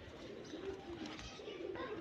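Pet pigeons coo softly and repeatedly while being fed grain, low throaty calls overlapping with a faint background hum.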